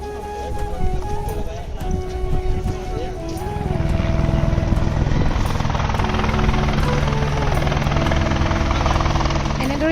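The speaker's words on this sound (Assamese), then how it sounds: "ইখনৰ পিছত সিখন কণ্টিনিউৱাছলি হেলিকপ্টাৰ আহি থাকে" A helicopter arrives at the Kedarnath helipad, its rotor and engine roar swelling from a moderate drone to a loud, steady wash that fills the air, while people talk over the noise.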